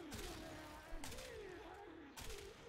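Kuva Quartakk rifle fire in the video game Warframe sounds as rapid bursts of gunfire under a steady background drone, three distinct volleys spaced about a second apart.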